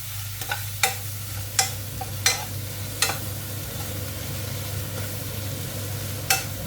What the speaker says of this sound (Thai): เราก็ผัด ผัดเส้นพริกของเราสุกๆ นะคะ